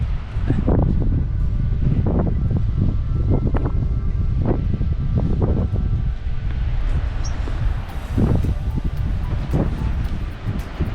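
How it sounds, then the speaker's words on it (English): Strong coastal wind on the Oregon coast buffeting the microphone in uneven gusts, a low rumbling roar that surges and eases with no clear voices. "It's very windy."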